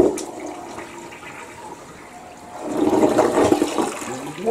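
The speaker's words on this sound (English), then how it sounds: "Let's flush it." A household toilet flushes after bowl cleaning, starting with a soft trickle that builds into a loud rushing swirl of water draining in the second half.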